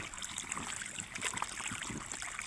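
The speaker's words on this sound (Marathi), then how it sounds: "चालू झालंय, यालंय आता पाणी." Water gushes steadily from a newly started farm motor pump, a close, even rushing splash of moderate loudness with no talk.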